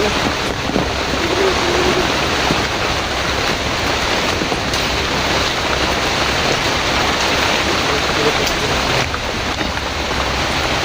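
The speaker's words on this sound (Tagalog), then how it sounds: "sobrang lakas nga po ng ulan" A continuous roar of heavy rain pounds down nearby, a thick unbroken hiss with scattered drips and splashes over nearly eleven seconds.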